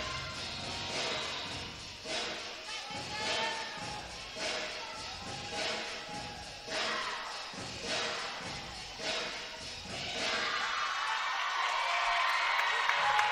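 A crowd at an NCAA women's gymnastics meet, Texas Woman's versus Pittsburgh, claps and cheers in a rhythmic, pulsing wave of applause for about ten seconds before settling into a steady, louder roar, all at a distance.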